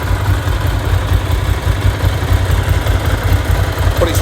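A Ducati 750 SS Supersport L-twin engine idles close up with a loud, steady low throb and a constant mechanical rattle layered over its even pulsing beat.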